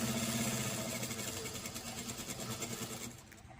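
A sewing machine stitches tucks on a blouse, a steady whirring motor hum with rapid rhythmic needle pulses that runs continuously, then drops off near the end.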